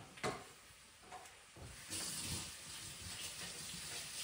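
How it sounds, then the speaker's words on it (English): Tap water runs into a kitchen sink as hands are washed, a soft steady hiss and splash at moderate distance, swelling slightly partway through with faint clatter underneath. "So I'm just gonna wash my hands again."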